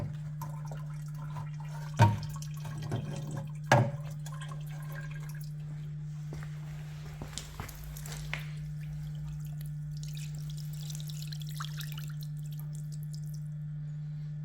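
Water rinses a clogged cabin heater filter taken from a Chevrolet Aveo, with soft dripping and a couple of brief splashes over a steady low hum and no talk.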